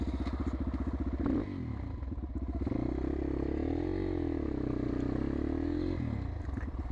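A motorcycle engine idles close by with a rapid, steady thumping beat, briefly revving up and settling back, running continuously throughout.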